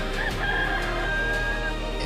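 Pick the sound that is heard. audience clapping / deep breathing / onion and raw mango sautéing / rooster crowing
rooster crowing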